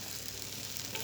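Smoked fish is stirred into a boiling spice mixture in a home kitchen pot, giving a brief, faint, steady bubbling sizzle.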